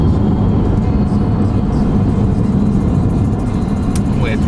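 A car drives across the open plains of Wiltshire, heard from inside as a steady, loud engine drone and road rumble that stays constant throughout.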